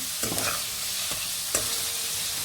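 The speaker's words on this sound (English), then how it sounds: "Keep your onions into the pan until they're nice and like golden brown" Onions fry over high flame in a pan in a bright, close sizzle, punctuated by a few sharp stirring scrapes; no talking.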